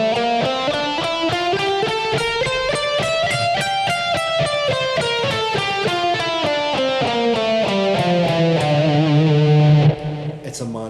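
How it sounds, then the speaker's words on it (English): A guitar runs up and down the Aeolian natural minor scale in a steady stream of evenly spaced single notes, rising and then descending, bright and close with a slightly driven edge, ending on a held low note. "And the 6th degree is your natural minor scale."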